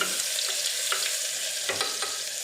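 Ginger garlic paste fries in hot oil with a steady, close sizzle and a few brief spoon scrapes cutting through, no voices.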